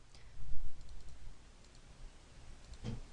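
A computer mouse double-clicking on a desk while selecting an entry from a customer list in dispatch software, giving a quiet pair of sharp clicks near the end after faint low thumps.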